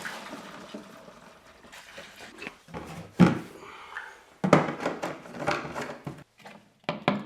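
Liquid poured from a half-gallon measuring can through a funnel into a Langmuir Crossfire XL plasma cutter's water setup, with uneven gurgling glugs and splashes that start, pause and resume close by, with handling knocks between pours.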